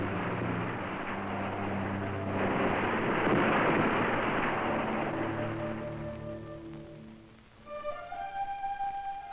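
Heavy rain and rumbling thunder build into a loud, continuous storm roar, then fade as a sustained musical tone rises at the end.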